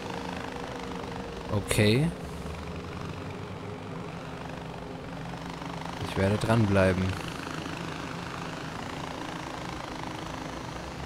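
A helicopter flies in the video game Far Cry 4 with a steady rotor and engine drone throughout. Someone speaks briefly twice over it.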